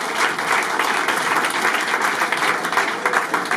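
Steady, loud applause from an awards-event audience honouring a football club's campaign committee, continuous dense clapping throughout with no voices over it.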